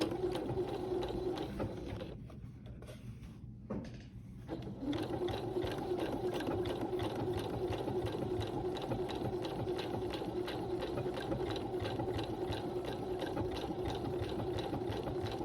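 Close, steady whir and rhythmic needle clatter of a sewing machine running a decorative stitch on bag fabric, pausing briefly early on, then running continuously without talk.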